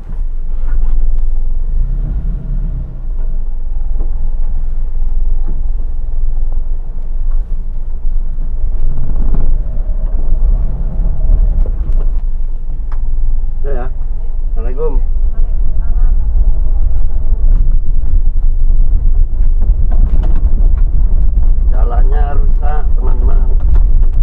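A Toyota Kijang climbs a gentle uphill grade in third gear, its engine holding a loud, steady low rumble inside the cabin while someone talks over it almost the whole way.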